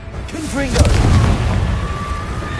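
A Harry Potter video game Confringo blasting curse goes off with a loud booming explosion and rumbling aftermath, while a voice shouts the spell just before the blast.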